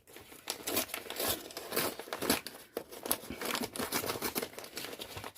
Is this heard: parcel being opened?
yes